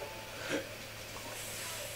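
A brief spray of pepper spray hisses in South Park: The Stick of Truth, a soft, airy burst swelling for about a second before settling into faint steady noise.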